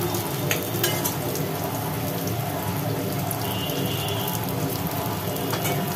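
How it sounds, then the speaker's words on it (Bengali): Potatoes frying in oil in a pan give a steady, close, dense sizzle with a few stirring clicks and no talk. "আর এদিকে আলুগুলো ভাজা হচ্ছে"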